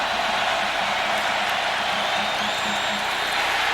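Large football stadium crowd at a Clemson Tigers vs. Florida State Seminoles game, a steady, dense roar of thousands of fans filling the air continuously without letup.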